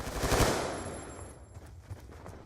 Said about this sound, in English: I get hit fired by a full auto M8A1